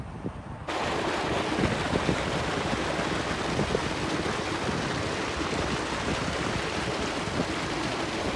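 Village tube well pumping water into farm fields, a loud, steady gushing rush of flowing water that starts abruptly and continues evenly, with some wind buffeting.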